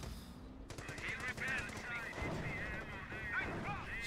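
Rapid automatic flak fire from an Ostwind anti-aircraft tank in the Company of Heroes strategy game, a continuous stuttering burst beneath other battle noise and a commentator's voice.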